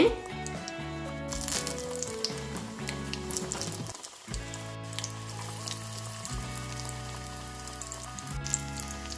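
Chicken nuggets coated in egg and breadcrumbs fry in oil over a medium flame, crackling and sizzling steadily. The bubbling dips briefly partway through, and background music plays throughout.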